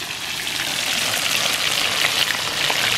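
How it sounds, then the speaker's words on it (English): Close, steady sizzling of fish (mojarras) frying in hot oil in an outdoor disc wok, a continuous crackling hiss with no talking. "Look at them sizzling."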